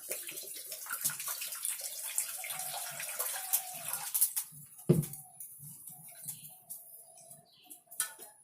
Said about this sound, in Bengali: আর দিয়ে দেবো এখানে জল।